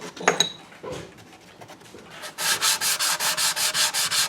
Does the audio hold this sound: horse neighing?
no